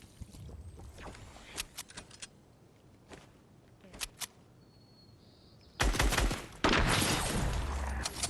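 Automatic rifle fire in a shooter video game: a few sparse single shots and short bursts, then loud sustained rapid-fire volleys toward the end, with no speech.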